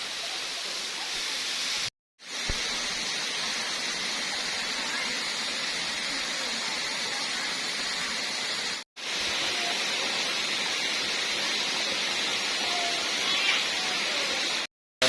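Phlan Thong waterfall in Pha Phu Man National Park roars as a loud, steady broadband wash of falling water during evening rain, continuous and close, briefly cut to silence twice.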